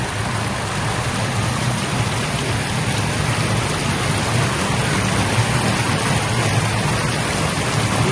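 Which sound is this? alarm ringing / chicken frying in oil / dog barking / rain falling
rain falling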